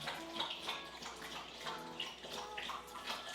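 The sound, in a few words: dog drinking water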